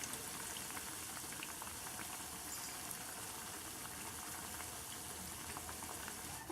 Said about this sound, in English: I will fry it on one side for a couple minutes, flip it over, and fry it for a couple more